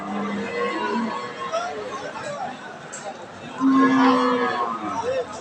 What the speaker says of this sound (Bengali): সম্পূর্ণ কালো রঙের গাভিটা ফ্রিজিয়ান গাভি